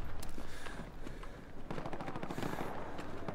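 Rapid gunfire in the WWII shooter game Hell Let Loose, dense bursts of automatic fire and shots crackling throughout, fairly distant and even in level, no talking.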